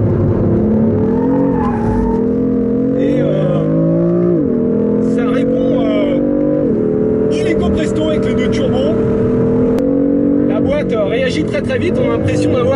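A BMW M3/M4 with a six-cylinder engine accelerates hard while smoking its tyres: a loud, close engine climbs through the revs in several surges, with brief dips between gear changes and harsh tyre noise on top.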